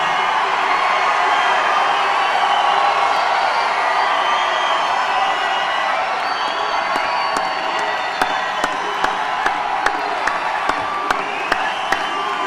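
A large crowd at a political rally in Albuquerque, New Mexico cheers and whoops loudly in a sustained roar, with sharp claps and shouts standing out more toward the end.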